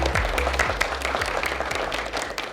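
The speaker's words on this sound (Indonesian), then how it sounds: "kita tepuk tangan dulu untuk ketiga tim yang hebat pada hari ini" Students clap for three junior high school teams at a quiz competition in Palu, giving dense, steady applause at a moderate, somewhat distant level with a faint low hum underneath.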